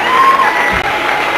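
A studio audience cheers and applauds a singer after a song on a television show, a loud crowd roar with whoops and shouts held steady through the moment.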